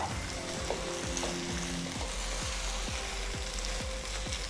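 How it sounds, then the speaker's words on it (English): Soaked, unparboiled basmati rice stirred into a sauce in a pan for rice and beans: a continuous close sizzling hiss with scraping strokes over a low steady hum. "you're going to stir it with your sauce"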